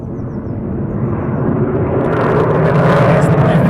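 An F-15 military jet approaching to land at RAF Lakenheath, a loud, steady broadband engine roar that swells and grows harsher as it nears, with no talk over it.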